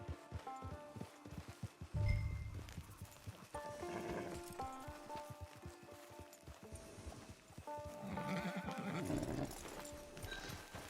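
Horse hooves clip-clop steadily as a horse neighs loudly a couple of times, with faint background music underneath, in the video game Red Dead Redemption 2 Online.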